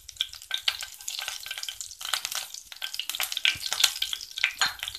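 Two spoons of cumin seeds fry in hot oil for a broad bean and tomato curry, making a close, steady sizzle with crackling bursts and stirring scrapes throughout, with no talking.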